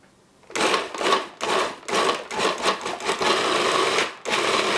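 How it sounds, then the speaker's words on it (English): Food processor pulsing an Indonesian spice paste with tamarind water, six or seven loud whirring bursts separated by brief pauses, up close, the last run held longer, with no talking. "We're going to pulse this until it forms a paste."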